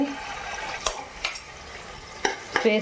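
A spoon stirs tomato rice mixture frying in a pan, with a soft steady sizzle underneath and a few louder scraping knocks against the pan, nearby and without speech.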